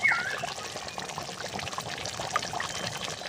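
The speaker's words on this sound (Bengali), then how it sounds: "নিরামিষ আলুর দমে সবশেষে দিয়ে দেব একটু ঘি" Ghee pours into a pot of vegetarian potato curry (aloo dum), a soft, close liquid trickle with a couple of faint splashes and light clinks.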